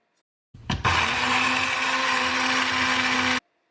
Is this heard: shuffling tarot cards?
no